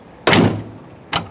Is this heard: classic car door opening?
yes